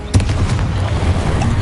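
Confringo blasting spells in Hogwarts Legacy burst with a deep boom and crackling explosive rumble, one sharp hit followed by sustained low roiling noise.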